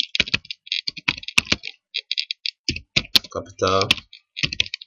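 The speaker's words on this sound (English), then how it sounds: "open the file, and then type in something" Fast, close clicking from a computer keyboard as someone types text into a file in a Linux terminal, in uneven bursts, with someone talking over part of it.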